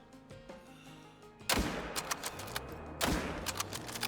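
Two loud rifle shots fired at roe deer in the hunting game theHunter Call of the Wild, each a sharp broadband crack with a rolling echo tail, about one and a half seconds apart over quiet ambient game sound.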